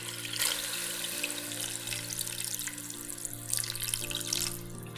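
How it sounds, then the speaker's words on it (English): Water pouring steadily into a pot of chicken for Chinese-style curry chicken, a continuous close splashing and gushing stream with faint low kitchen hum beneath and no talking. "Then add water to cover the chicken."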